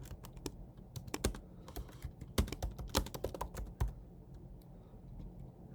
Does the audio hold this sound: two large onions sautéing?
no